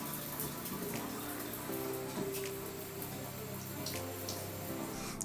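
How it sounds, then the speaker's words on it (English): Water running steadily in a shower while airframe parts are washed during construction, a continuous hiss with a low hum underneath throughout. "We get to wash our parts in the shower here."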